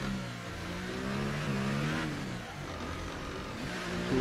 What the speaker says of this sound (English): Nice engine sounds.